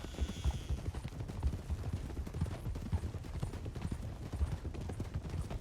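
Several horses' hooves clip-clop in the video game Red Dead Redemption 2 during roleplay, a steady stream of close, overlapping hoofbeats, heavy and uneven, with nobody talking.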